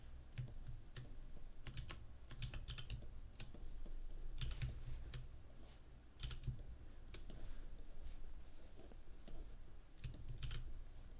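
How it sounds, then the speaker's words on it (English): Someone types on a computer keyboard during a digital drawing session, with rapid close clicks and clustered keystroke bursts over a faint steady background, without talking. "I'm hitting the keyboard for pretty much everything."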